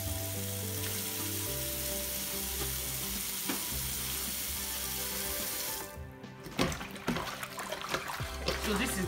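Water runs over a burnt cow skin during its final rinse after scraping: a continuous splashing flow that gives way near the end to louder, uneven sloshes and splashes close by.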